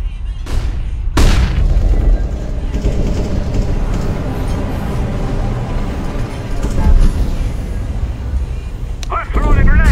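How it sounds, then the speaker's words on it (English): A flashbang grenade goes off in CS:GO with a sharp, loud boom near the start. Dense, continuous game noise follows at high level, and a second burst comes at the end. "I'm throwing a flashbang."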